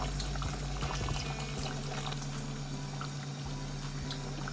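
Water pours and gurgles into a cooking pot at a low level, a continuous watery wash over a steady background hum, no voices.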